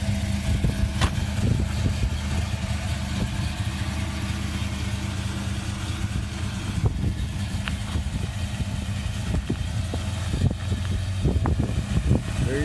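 A restored 1955 Chevrolet 210 resto-rod pulls away down the road. Its engine gives a steady low rumble with a few rises in revs, heard from moderately far off over background noise, with no voices.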